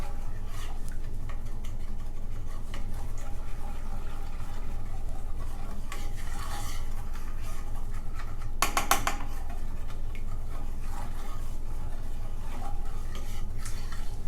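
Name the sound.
stirring melted chocolate mixture in a pan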